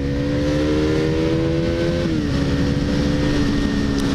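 A KTM Duke 390 motorcycle engine drones steadily under acceleration, its pitch climbing, dipping briefly at a gear change, then rising again, heard close and loud with wind noise.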